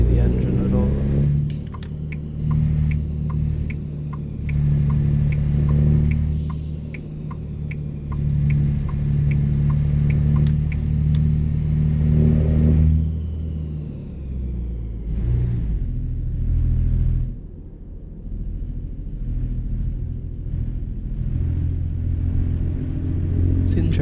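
Low, steady engine drone of a Kenworth K100E cabover truck in American Truck Simulator, rumbling continuously with slight shifts in pitch as it accelerates and settles.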